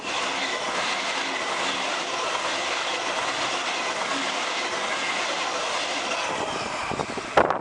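A Waratah electric train passes through Lewisham station, a loud continuous roar of wheels and rail noise filling the whole stretch, with a short squeal and clatter as it clears at the end.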